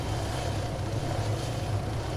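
A helicopter in Arma 3 drones steadily with a low rotor and engine hum, a constant moderate whir with no voices.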